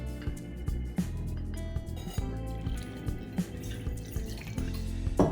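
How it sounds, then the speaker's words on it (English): Fresh squeezed lime juice poured into a cocktail shaker tin makes a close, continuous trickle and splash with small drips throughout, alone and with no talking. "we are going to add 3/4 of an ounce of fresh squeezed lime juice"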